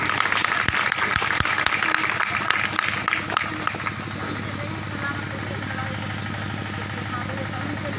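A congregation at an open-air crusade in Lakhimpur, Uttar Pradesh, claps loudly in praise. The applause is dense at first, then fades into a steady low hum and engine-like drone.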